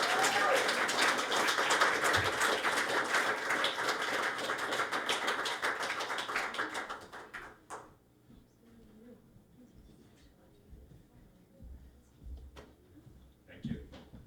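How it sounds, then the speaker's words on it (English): Audience applause at the start of a concert, a steady wash of clapping for about seven seconds that fades into quiet room noise with scattered taps and thumps. "if we could have applause before we begin"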